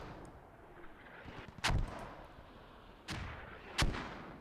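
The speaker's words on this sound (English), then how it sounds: "Mortars now going down on that northern side of Northern Village" Mortar rounds impacting in a tactical shooter match on the northern side of a village, three sharp heavy booms at irregular intervals over a low rumbling background, no talk.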